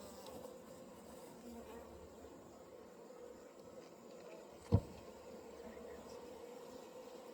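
Honeybees hum in a low, continuous drone at close range at an open hive, with one sharp knock partway through.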